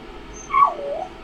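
A dog lets out a brief, high, whiny whimper that rises into a short yip, close by and alone, over a quiet room.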